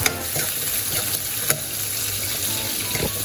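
A mixture of Schezwan, tomato and soy sauces is stirred in a pan, making a wet, close bubbling sizzle with a few soft scrapes and taps from the utensil, and no voices.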